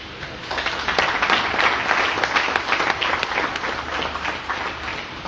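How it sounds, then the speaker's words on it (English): A crowd at a Sierra Leone government cabinet address breaks into applause, a dense, sustained clapping that swells after a brief moment and carries on steadily to the end. "You are clapping because you will not be sitting there."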